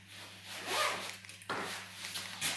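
A zipper is pulled open on a gaming laptop backpack, giving close rasping zip strokes and fabric rustle as the bag is opened, in quiet surroundings.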